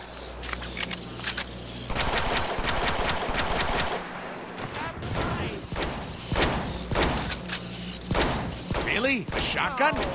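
Gunfire in the Deadpool video game, including shotgun blasts, bursts over a busy game soundtrack of repeated shots and impacts, with voices talking throughout.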